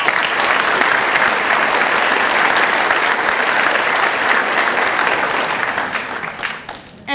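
An audience claps for an award runner-up at a ceremony: sustained, loud, close clapping from many hands that fades out toward the end.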